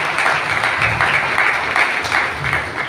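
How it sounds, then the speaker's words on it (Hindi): Loud, sustained applause from a school congregation honoring teachers at a Teacher's Day gathering, dense clapping filling the whole stretch with slight surges and no speech over it. "हम जोरदार ताली बजा दें अपने कॉन्ग्रेगेशन में।"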